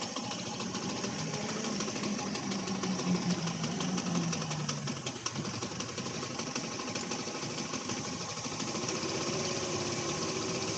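A 50cc moped engine idles continuously for several seconds with a rattling, slightly knocking tone at a steady, moderate level.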